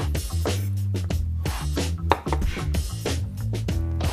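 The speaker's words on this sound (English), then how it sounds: "We'll chop this fine." A knife chops roasted garlic fine on a cutting board with rapid, close, crisp taps in a quick steady rhythm, sounding continuous and fairly loud, with no talking over it.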